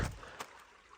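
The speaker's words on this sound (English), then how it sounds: "Nothing but creek." A creek flows through snowy winter woods in wilderness near Metro Atlanta, giving a faint, steady watery rush with a brief soft knock partway through.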